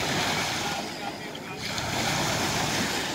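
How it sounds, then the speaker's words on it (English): Waves wash onto Dubai Beach at JBR in a continuous broad roar of surf mixed with wind buffeting the microphone, with a brief dip in the wash partway through. "So here we are on Dubai Beach."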